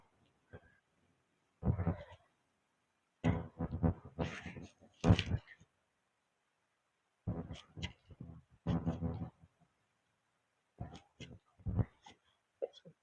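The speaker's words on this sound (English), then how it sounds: "Here's one of the city cats." A city cat meows repeatedly outdoors along a river walk, several drawn-out cries in separate bursts with silent gaps, close and clear.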